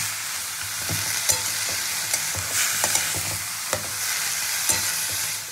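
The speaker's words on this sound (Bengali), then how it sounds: "শাকটা তেলের মধ্যে নাড়াচাড়া করে এর মধ্যে পরিমাণ মতো নুন আর হলুদ দিয়ে দেবো" Greens fry in oil with salt and turmeric while being stirred. A steady hiss of frying runs throughout, broken by repeated utensil scrapes and taps against the pan at an irregular pace.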